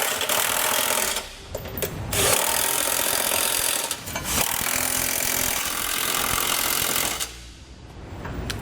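Hitch hardware being snugged down while fitting a CURT trailer hitch to a 2014 Ford Flex, a steady loud mechanical whirring and grinding like a power ratchet or impact driver, running in long bursts with short pauses between them.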